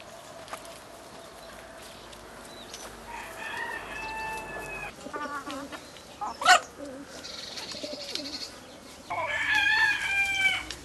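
A hen crows loudly in the foreground of a backyard all-hen flock, with a couple of separate harmonic crowing calls and clucks from other hens over steady outdoor background noise.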